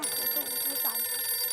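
A telephone rings in a scene from the Indian TV sitcom Taarak Mehta Ka Ooltah Chashma as a call comes in from Iyer. The ring is steady and continuous throughout, set against a busy room-tone background.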